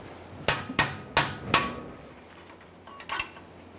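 Four quick, light metallic taps on a brake line to work it free of a metal clip on a 2015-2020 Ford F-150, followed after a pause by a couple of fainter clinks, close up.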